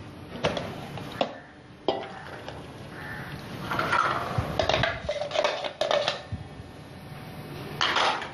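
A spoon scrapes and clinks around a pan while paneer is mixed with spices, producing intermittent metallic knocks and stirring noises close by, with quiet gaps between.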